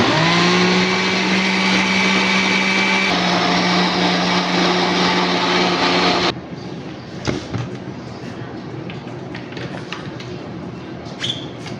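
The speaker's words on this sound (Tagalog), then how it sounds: "I-blend ko siya hanggang sa mag-smooth siya." Blender whirring through M&S smoothie mix, a loud steady motorized drone with a pitch shift midway, cutting off abruptly after about six seconds to quieter clatter and faint knocks.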